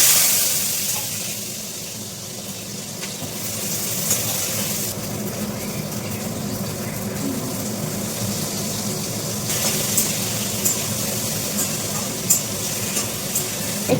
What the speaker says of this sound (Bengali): আমি এবার এক এক করে সবজিগুলো সব ভেজে নেবো